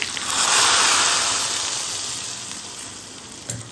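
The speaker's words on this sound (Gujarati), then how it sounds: "અહીંયા આપણે કઢીમાં વઘાર પણ કરી લીધો છે." Tempering of green chillies and curry leaves in hot oil hits Gujarati kadhi with a loud burst of sizzling that swells quickly and then slowly fades, with a small clink near the end.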